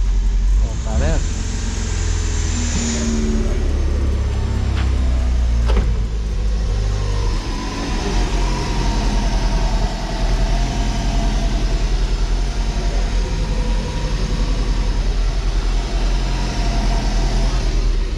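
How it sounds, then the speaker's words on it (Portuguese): A car engine idles with a rough, raspy exhaust rumble through an exhaust punctured on a speed bump, close and continuous, with a few clicks and knocks near the start. "Consegui furar o escapamento passando em quebra-mola, velho"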